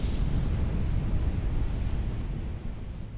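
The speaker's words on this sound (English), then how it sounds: "the first of 4 truly cataclysmic explosions occurred on Krakatoa" Cataclysmic volcanic eruption of Krakatoa, heard as a continuous loud, deep roaring rumble with broadband blast noise filling the whole stretch, steady and unbroken throughout.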